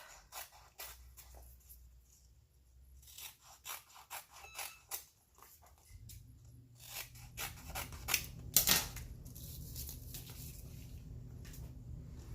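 Scissors trimming excess mesh stencil material for a washable, reusable chalk paint stencil, a series of quiet snips and crinkly handling sounds close by, growing denser toward the end with a sharper rustle partway through.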